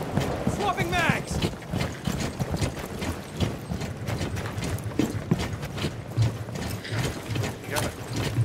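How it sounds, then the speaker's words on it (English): Magazine swap reload in Rainbow Six Siege, a run of metallic clicks and ratcheting mechanical clacks at close range amid other game noise and spoken callouts. "Swapping mags!"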